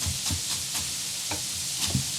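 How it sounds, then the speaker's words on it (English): A knife chops Swiss chard stems finely on a cutting board, giving a quick, steady run of crisp taps about four per second. The taps are close and clear over a light background hiss, with no talking. "So I'm gonna finely chop the stems, just like that."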